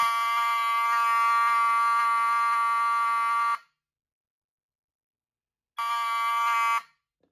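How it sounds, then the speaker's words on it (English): A Fire-Lite 411UDAC fire alarm panel sounds a steady electronic tone for several seconds, falls silent, then gives a second, shorter burst. "When an alarm is tripped, it sounds the signal for 4 seconds."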